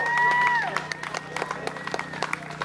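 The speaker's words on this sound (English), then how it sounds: "Let's all have a big round of applause for Audra Brown and Kara Clark." Outdoor Liberty Fest crowd in Memphis applauding: a sustained whistle or cheer up front, then scattered, uneven claps from a modest audience at a distance, with a low hum beneath.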